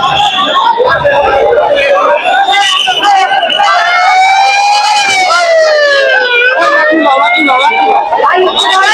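An ambulance siren wails at a crowded Dhaka Medical College Hospital after an aircraft crash, its steady sweeping tone rising and falling loudly over a dense murmur of voices throughout.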